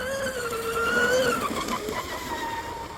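A DeltaForce 34 RC hydro boat with a 4082 1600kv brushless motor runs on open water, its high electric whine wavering in pitch as it passes at a moderate distance and slowly fades.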